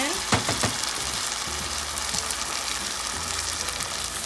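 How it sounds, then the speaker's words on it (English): Canned beans hit a hot pan and fry with a loud, steady sizzle and crackle, with a few scraping stirs near the start, close and continuous throughout. "The pan's pretty hot. We're gonna mash and fry. Toss our canned beans in."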